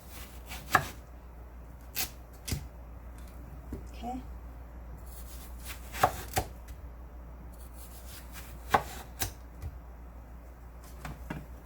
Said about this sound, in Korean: 이렇게 반으로 잘라줍니다